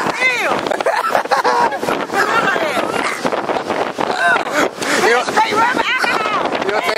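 Loud wind buffets the microphone at a seaside food truck festival, rumbling and gusting throughout while people talk over it.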